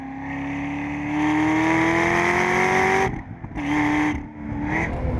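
A Chevrolet sports car on carbon ceramic brakes and sticky cup tires at Laguna Seca roars loudly at high speed, its engine pitch climbing steadily before cutting off abruptly and returning in short bursts as it brakes and downshifts.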